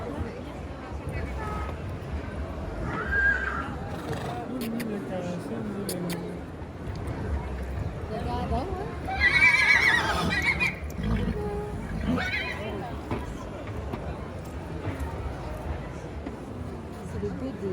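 A horse neighs at an agricultural show in a crowded hall, a loud whinny rising above steady crowd babble, with people talking nearby.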